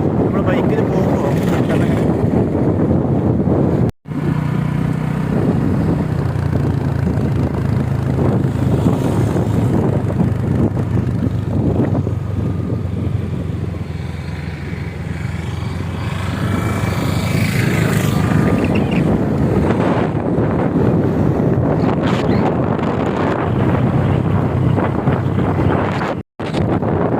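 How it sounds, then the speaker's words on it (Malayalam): Strong wind roars across the microphone during a group motorbike ride near Sholayur in Attappadi, with loud, steady buffeting, engine and road rumble underneath, and a voice talking briefly. "നല്ല കാറ്റാണ്, നല്ല കാറ്റുണ്ട്"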